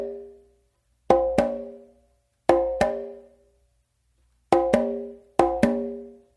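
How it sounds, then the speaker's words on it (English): Four pairs of sharp open slaps on conga, alternating dominant and non-dominant hands, each pair a quick double hit followed by a ringing decay, with gaps between pairs; close, loud and clear with no talking. "So what I'm doing is I'm going to do an open slap with my dominant hand"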